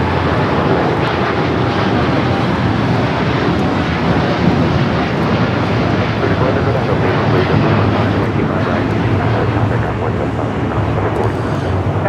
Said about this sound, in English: This is United Airlines 152 taking off to Hong Kong on the 787-9 Dreamliner